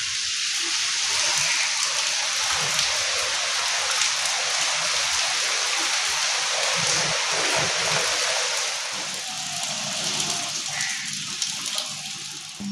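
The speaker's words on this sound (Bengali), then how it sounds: "খুব জোরে বৃষ্টি এসছে এবার" Heavy rain falls as a loud, dense, continuous hiss and splatter that stays steady throughout and eases slightly near the end, with no talking.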